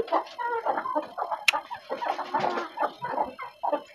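A farmyard rooster crows and clucks repeatedly among other chickens, close and fairly loud, with short bursts of calls spread across the whole stretch.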